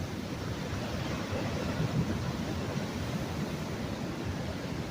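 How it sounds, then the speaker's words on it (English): Ocean surf rumbles continuously against a pier at Pismo Beach at night, a dense, steady low roar with gentle swells in loudness and some wind noise. "I just love how the water just rumbles."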